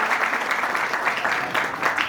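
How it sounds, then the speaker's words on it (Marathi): A college audience at a road safety awareness event breaks into loud, dense, sustained applause with no pauses. "जोरदार टाळ्या सर्वांसाठी."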